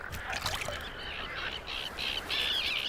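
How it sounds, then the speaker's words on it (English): Frogs croaking among screaming terns at a breeding colony on floating islands in the Balkans, a busy overlapping chorus of repeated shrill calls and chirps, fairly close and continuous. "Frogs are breeding too, and they join in the chorus."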